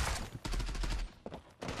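An AKS-74u rifle fires in the video game Zula, with several quick close bursts of shots separated by brief pauses.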